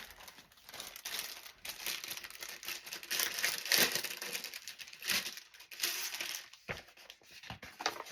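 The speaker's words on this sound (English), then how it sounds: "Sorry about the crinkle racket." Plastic packaging crinkles and crackles continuously as Christmas craft supplies are gathered and sorted indoors, with rustling close by and varying in intensity.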